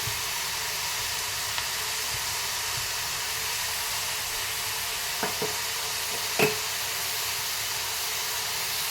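Grated beetroot palya with salt and turmeric fries in a pan, giving a steady close sizzle and hiss with a few soft clicks of stirring.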